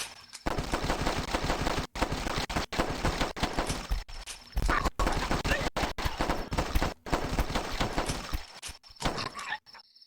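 Rapid bursts of video game gunfire rattle almost continuously in close, loud volleys, with a few short gaps between strings of shots.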